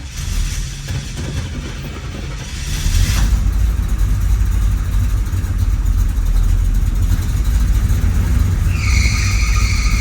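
A 1972 Chevrolet Nova V8, carburetor needing adjustment, cranks and fires up loudly close by, then settles into a steady rumbling run for the rest of the clip, a brief beep sounding near the end.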